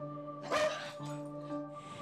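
A single dog's bark, fairly close and loud, rises at about half a second over a steady hum of tones, followed by a few fainter bark-like or whimpering bursts.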